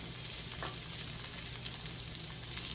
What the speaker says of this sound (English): If you start moving it around, it's not going to sear well. It's going to stick to the pan.